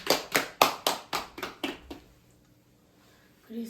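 A group claps hands in a quick unison "success clap" at a church Bible-doctrine camp, about eight sharp, evenly spaced claps, loud and close, followed by near silence.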